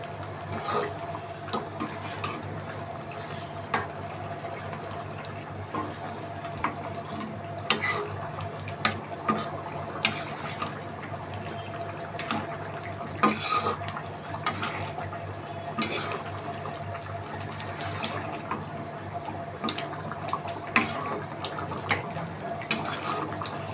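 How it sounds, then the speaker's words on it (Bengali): Spoon stirring sour yogurt into a beef kofta curry mixture, with soft wet scraping and irregular clicks against the pot repeating steadily over a low background hum, no talk. "টক দইটা মিক্স করে নিচ্ছি আমি নেড়ে।"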